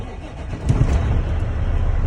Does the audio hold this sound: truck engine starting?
yes